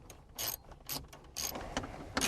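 Ratchet with a 7mm socket backing out screws from Silverado or Sierra climate controls, a few short quiet bursts of clicking with gaps between, close up.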